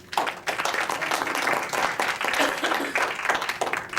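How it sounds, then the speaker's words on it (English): An audience at a Strategic Advocacy Group meeting gives a round of applause for Dr. Summers: dense, steady clapping from a crowd that runs loud and unbroken for the full stretch. "Give him a round of applause."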